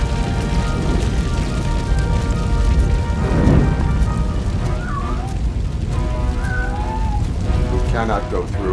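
Fire roaring in the video game RoboCop: Rogue City, a steady dense crackling blaze held at constant loudness beneath the game's music and faint effects, with no break across the clip.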